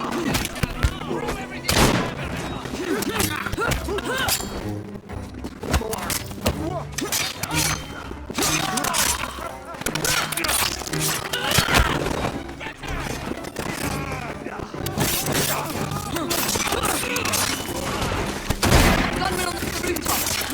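Gunmen firing from rooftops in the Assassin's Creed Syndicate video game, set in Victorian London: repeated sharp shots and thuds crack out across the whole stretch, layered with dense game music and ambient noise.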